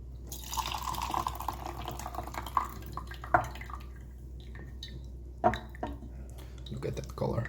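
Hot water is poured over raw puerh tea for a quick flash-brew infusion, a soft splashing trickle with a few sharper drips and clinks, close and moderately loud.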